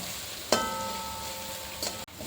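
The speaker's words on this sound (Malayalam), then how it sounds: "ഇതെല്ലാം കൂടി നമുക്ക് നന്നായിട്ടൊന്ന് വഴറ്റിയെടുക്കാം" Pepper powder and garam masala being sautéed in a pan for Kerala-style chilli pork make a soft, steady sizzle, broken by two close metallic clinks of a utensil against the pan.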